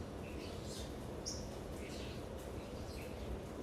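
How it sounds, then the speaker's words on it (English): Outdoor birds chirp in short, thin, high calls scattered over a steady city rumble, faint and somewhat distant, with several brief tweets spread across a few seconds. "I wish you could see the birds."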